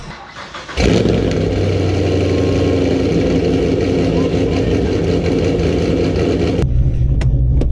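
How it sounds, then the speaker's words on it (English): A cammed 2014 Chevrolet Camaro Z28 V8 engine fires up and settles into a loud, lumpy, rumbling idle that holds steady for several seconds, then drops off abruptly. "So let's take the car out. This thing's gonna be loud, Ricky Bobby."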